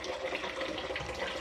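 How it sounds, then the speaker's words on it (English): Water is poured into a coffee machine's reservoir, a steady close splashing and trickling that runs on without a pause. "I hate giving this thing water because it always spills everywhere"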